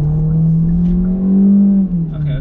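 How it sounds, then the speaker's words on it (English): A 2021 Hyundai Tucson SUV engine accelerating hard under full throttle, a loud, steady droning roar that swells and rises in pitch, heard from inside the cabin with no talking. "there was a lot of engine noise there when he put his foot down"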